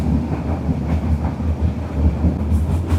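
A train rumbles steadily along the rails through Dudhwa National Park between Mailani and Bichhiya, with a low, continuous roar and faint rhythmic clatter, close and fairly loud, no voices.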